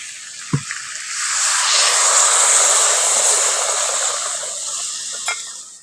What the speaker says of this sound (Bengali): ওই বাটিতে করে আমি এখন জলটা দিয়ে দিচ্ছি